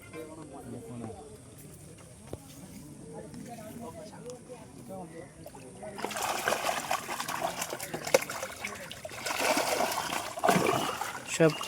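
Catla fish feeding and splashing at the surface of a pond in Baruipur, with irregular watery slaps and sloshing that grow louder in the second half, while someone talks over the water sounds.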